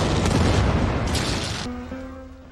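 A heavy, booming blast that rumbles and crackles for over a second, then decays into a ringing tone as the noise fades.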